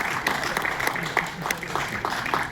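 Applause from an audience at a live talk at ISKCON temple in Mumbai, a moderate patter of clapping under a voice speaking over it throughout.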